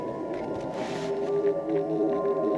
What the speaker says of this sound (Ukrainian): обнаружили странный звук, похожий на смесь смесь рева медведя с каким-то металлическим звуком